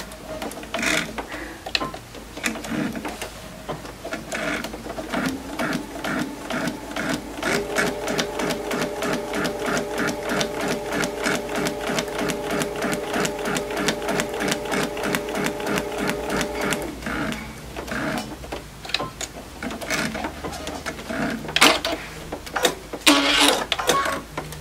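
Sewing machine stitching a quilt block of triangle geese, rapid rhythmic clatter in bursts with a steady long run in the middle, close up, with a few faint handling sounds between runs.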